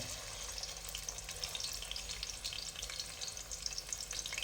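Onion frying in a pan for Hyderabadi chicken biryani masala, a steady close crackling sizzle with light stirring and spattering throughout, no talk.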